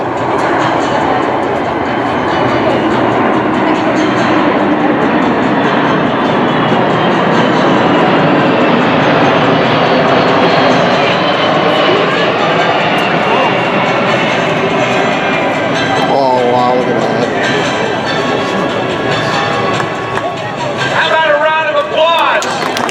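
KC-135R Stratotanker aircraft making a refueling pass at an airshow, a loud, steady broadband jet roar sustained throughout, with a commentator talking over it.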